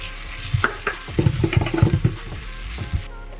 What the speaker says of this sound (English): Now I'm gonna add some tomato.